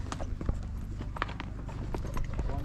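Horse hooves clip-clopping on a hill trail near Kufri, Shimla, a steady walking rhythm of close hoofbeats with a faint voice in the background.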